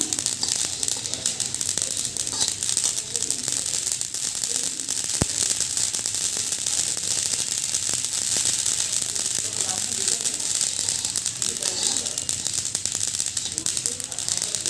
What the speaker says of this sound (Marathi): पाच एक मिनटं मोहरी भाजून घ्यायची आपल्याला